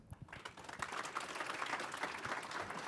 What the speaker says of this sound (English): Let's give a round of applause for Wendell